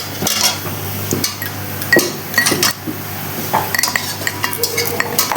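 Metal utensils clink and scrape against a bowl and a grinding stone as ground spice paste for a goat-fat ghugni is scooped across, making irregular close knocks and chinks.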